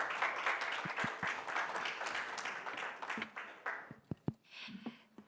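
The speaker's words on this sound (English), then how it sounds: "Let's give them a round of big applause to our panelists." Audience at a crypto summit panel claps for the panelists, a moderate burst of applause that thins out into a few scattered, distinct claps toward the end, heard fairly faintly in a hall.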